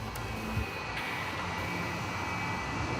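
An aircraft taxis at a very busy airport, giving a steady, distant engine roar and whine that holds a constant level throughout, with no talking.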